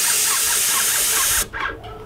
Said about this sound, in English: we're gonna come over here, spray some paint